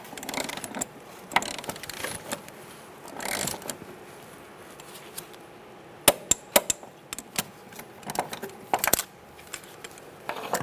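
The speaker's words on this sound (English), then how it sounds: "Torquing this to 20 foot-pounds." A torque wrench tightens a rear shock mount on a 2004-2009 Mazda 3, with a run of ratcheting clicks and sharp metallic snaps over a low garage hum, moderately close.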